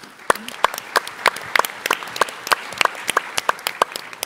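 Scattered, fairly sparse clapping from an audience at a startup pitch competition session, individual sharp claps ringing out irregularly at moderate volume.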